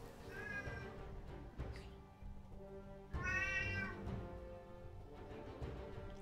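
A cat gives two clear meows a few seconds apart, the second louder and longer, over a soft murmur of background noise.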